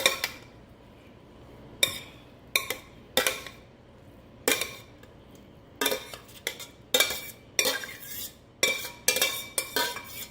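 Cooked broccoli is mixed into a broccoli cheese casserole in a big pan, producing irregular bursts of utensil scraping and clinking against the pan, with quiet gaps between the strokes and no speech.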